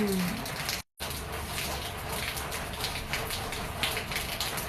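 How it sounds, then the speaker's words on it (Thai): Rain falls outdoors among lush trees in fine weather, a soft, even hiss of drops, fairly faint, continuous apart from a brief cut near the start. "ธรรมชาติฝนตกนะคะทุกท่าน"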